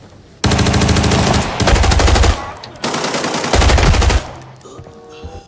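Automatic gunfire in the Arena Breakout shooter, TV Station map, with rifles such as the FAMAS, GROZA, AUG and Suomi: two long, loud bursts of rapid shots with brief gaps between them, fading at the end.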